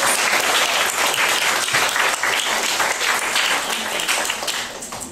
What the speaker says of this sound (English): Please give yourself a round of applause for all your hard work.